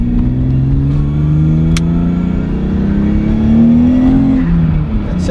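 A 400 hp 1990s Nissan 300ZX with a stock engine and bolt-on upgrades accelerates hard, its loud, close engine note climbing steadily in pitch before easing off near the end.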